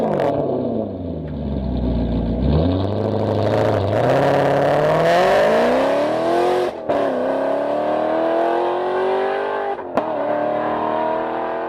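A 4.7-liter Ferrari V8 engine revs up and down repeatedly, its pitch rising and falling in smooth sweeps, loud and close with no talking.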